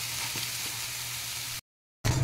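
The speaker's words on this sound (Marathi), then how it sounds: "तर आपण आता ह्या एका पॅनमध्ये डाळ घालत आहोत, ती चांगली भाजून घ्यायची आहे कुरकुरीत होईपर्यंत।" Moong dal roasts in a pan, giving a steady, close sizzle and hiss with faint stirring scrapes, broken by a short silent gap before the sizzling resumes louder.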